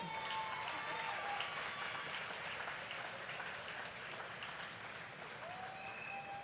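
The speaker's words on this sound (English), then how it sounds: "Let's give them a round of applause." Crowd at a national schools tassa drumming event clapping for the children, sustained, fairly distant applause with faint voices mixed in.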